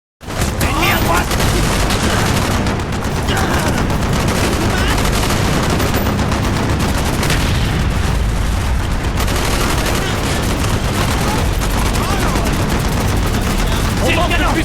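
Heavy ZPU anti-aircraft cannon and automatic gunfire from a Call of Duty: Black Ops campaign battle at a river, loud, dense and continuous bursts with booms, under shouted game dialogue.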